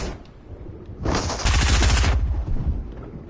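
Shotgun blasts in the Fortnite video game (Chapter 2 season 3), a loud dense burst of rapid overlapping shots lasting about a second amid game noise, with no talk.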